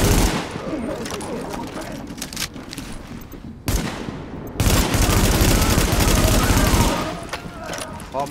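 Dense bursts of automatic gunfire in The Division, a video game, rattling nearly without pause, with a brief gap and then heavy, sustained firing.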